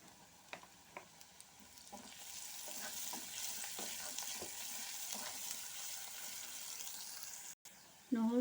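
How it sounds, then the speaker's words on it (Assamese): Garlic sizzles and fries in hot oil in a home kitchen pan, a steady close crackle swelling after a few stirring clinks, with a brief interruption near the end. "এতিয়া নহৰুখিনি অকণ দি দিছোঁ তেলত।"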